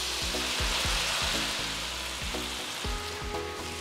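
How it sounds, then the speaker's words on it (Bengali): Masala fries in a pan for prawn kofta pulao, a steady close sizzle broken by regular thumps of stirring, with no talking. "ভালো করে একটু মশলাটাকে ভাজা ভাজা করে নেব"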